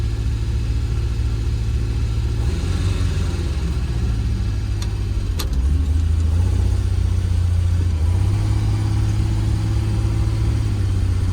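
An old Ford Pinto engine rumbles steadily and close, its revs rising slightly partway through, with no talking.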